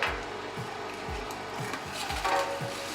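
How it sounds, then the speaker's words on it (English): Meat grinder forcing the last meat through the grinder head with ice for homemade Texas hot link sausage, giving steady regular grinding thumps about twice a second with a mechanical rasp over them. "what the ice is gonna do is it's gonna push the rest of that meat through the grinder head right here"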